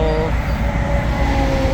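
Cargo train rolling across a rail bridge, a steady loud low rumble with a sustained tonal whine throughout, heard near and continuous with no talk.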